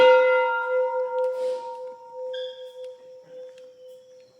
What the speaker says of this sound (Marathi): ही घंटा आहे मोठी